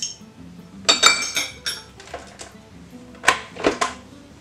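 Salt and sugar poured from small containers into a metal mixer bowl while making a strawberry cream cake, giving a series of close clinks and taps of dishes and utensils in short bursts.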